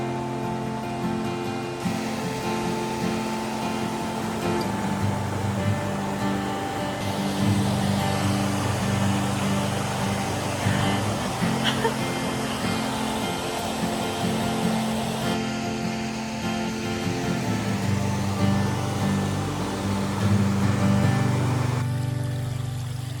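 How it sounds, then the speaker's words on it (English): A waterfall along a hiking trail to a Scottish Munro pours in a steady, unbroken broadband rush, close and even throughout with no voices. "check out this waterfall"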